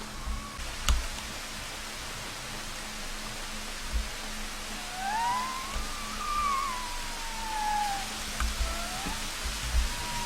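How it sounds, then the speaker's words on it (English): Steady hiss of video game rain with occasional soft thuds, while a high wavering whistle-like tone slides through the middle, continuous and moderately loud. "the sound has moved away from white noise and back towards proper rain"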